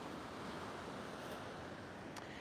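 Ocean surf washes steadily at an oceanfront shore, a continuous broadband roar with light wind noise and no distinct breaks, the same level from start to finish.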